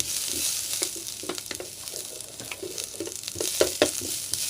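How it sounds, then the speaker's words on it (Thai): Garlic and shallots fry in a hot pan for ginger chicken, giving a steady soft sizzle broken by scattered clicks and scrapes of stirring, fairly close and with no talking. "เมื่อกระทะร้อนได้ทีเราก็ใส่ กระเทียมกับหัวหอมลงไปก่อนนะครับ"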